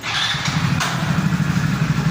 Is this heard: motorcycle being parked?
yes